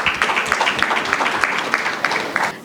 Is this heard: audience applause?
yes